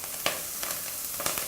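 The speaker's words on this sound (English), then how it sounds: "So we already have some kale frying in there." Kale fries in olive oil in a pot, giving a continuous close sizzle with a few sharper crackling pops, and no voices.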